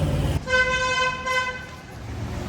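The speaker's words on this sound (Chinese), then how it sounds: "这里到处都是骑摩托车的，然后鸣笛的声音很小。" A vehicle horn gives a single sustained toot of about a second in a narrow, shop-lined Kathmandu street busy with motorcycles. It sounds fairly close, over a low bed of street noise.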